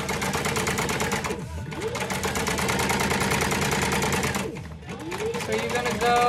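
A sewing machine stitches fabric for a tote bag pocket, whirring steadily at close range. It pauses briefly twice, then starts up again with a rising whine.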